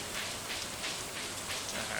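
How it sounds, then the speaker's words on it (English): Steady rain in the farming video game Stardew Valley, a dense continuous patter of drops on surfaces, even and fairly loud throughout with no other sounds. "And it's raining."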